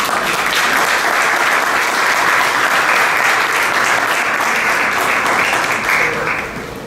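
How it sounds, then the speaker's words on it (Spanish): Sustained, loud applause from a ceremony audience fills the whole stretch with dense, steady clapping and no break. "llamamos a la abogada Dunia Herrera, otro fuerte aplauso para ella"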